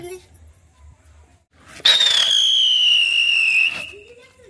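A firework goes off during a Durga idol immersion procession at Dussehra with a sudden burst, then a loud, high whistling screech that slowly falls in pitch for about two seconds before cutting out.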